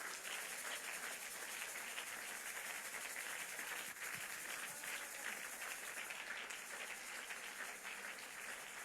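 Church congregation applauding during a Sunday service, dense sustained clapping from many people filling the room at an even level throughout.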